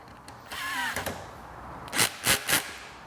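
A power drill snugs down the bolts of a Vespa top-case rack: a steady whirring run of about half a second, then three short, loud, separate bursts spaced evenly apart, close up with no voices.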